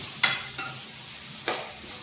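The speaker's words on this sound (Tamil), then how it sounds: "வெங்காயம் நல்லா வதங்கின உடனே தக்காளியை போட்டு வதக்கிடுவோம்." Tomatoes sautéing with fried onions in a pan, a low steady sizzle broken by a few sharp stirring scrapes, close and moderately quiet with no voices.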